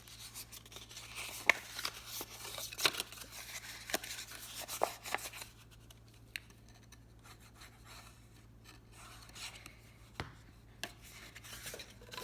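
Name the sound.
folding cardstock on score lines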